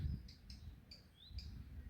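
A small bird chirps from a tree outdoors, giving a handful of short, thin tweets spread over two seconds above a low background rumble.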